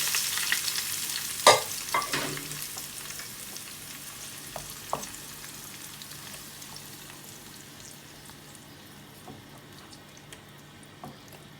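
Chicken karahi added to hot oil and stirred, with a loud burst of sizzling and clattering stirring at first, then a steady frying hiss that gradually fades, no talk.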